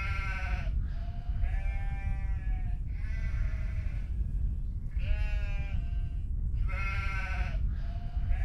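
Goats bleat repeatedly, four wavering calls spaced a second or two apart, heard over a constant low rumbling background with no voices.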